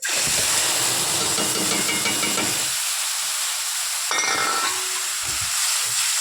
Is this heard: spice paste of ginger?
yes